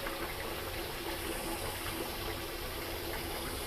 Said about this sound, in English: So I'm going to pour some of this bleach solution down the channel